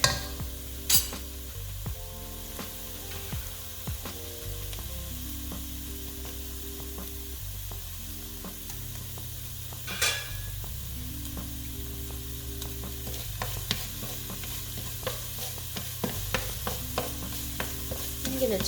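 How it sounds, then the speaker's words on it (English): Onions and garlic sizzle steadily in a hot pan while a utensil stirs and scrapes, with occasional clinks, and no talking. "once those onions are sizzling a little bit"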